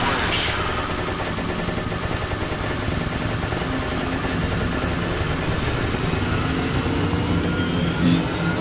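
Dense rapid gunfire from the video game SCP Containment Breach crackles without pause over a steady noisy bed of game sound, loud and continuous throughout.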